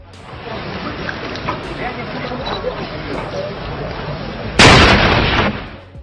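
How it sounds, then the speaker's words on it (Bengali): A hand grenade thrown during Chinese soldier training goes off as a sudden loud burst near the end, over a steady noisy outdoor background with some voices. "চাইনিজ এই সোলজার ট্রেনিং এর সময় হ্যান্ড গ্রেনেড থ্রো করছিল"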